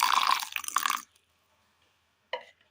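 Water pours into a mixer grinder jar holding chopped garlic, cumin, grated coconut and turmeric powder: about a second of close, steady pouring, then silence and a short splash or clink near the end.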